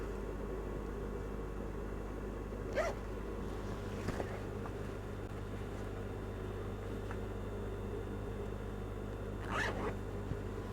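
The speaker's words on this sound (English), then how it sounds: "Make sure your zip is not catching any thread." An invisible zipper sewn into fabric is zipped, giving two brief, close rasping runs several seconds apart over a steady low background hum.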